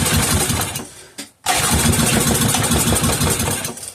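A 3.5 hp Briggs and Stratton small engine fires up and runs loud and close. It briefly dips and nearly stalls, then catches again and keeps running at a rough, steady roar.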